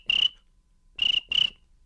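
A beatboxer's voice imitates a cricket: a shrill, buzzing chirp given once, then twice more in quick succession after a short pause, clear and alone.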